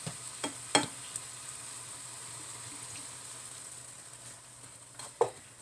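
Dinner cooking in a pan gives a low, steady sizzle with a faint hiss, broken by a few sharp clinks of stirring near the start and end, with no talking.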